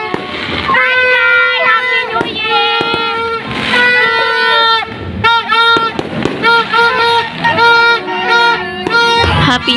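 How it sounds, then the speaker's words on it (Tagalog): New Year fireworks burst and crackle in a dense, irregular volley, loud and close, with whistling tones and sharp pops overlapping throughout; voices can be heard faintly in the background. "Fireworks."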